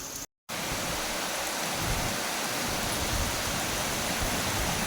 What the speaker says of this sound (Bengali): আর এইরকম বৃষ্টি আজকে আমাদের রানাঘাটে প্রথম হচ্ছে